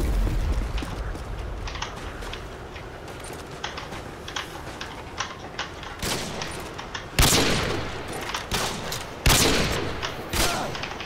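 Rapid gunshots in Call of Duty Modern Warfare 2 on the Rust map, a quick stream of sharp shots that grows into several loud, close blasts near the end, with no one speaking.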